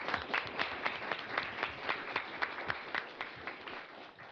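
An audience at a university forum applauds: dense, steady clapping from many hands, fairly loud and sustained throughout with no talking over it.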